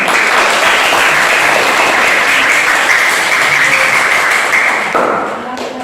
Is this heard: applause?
yes